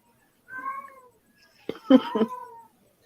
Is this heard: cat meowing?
yes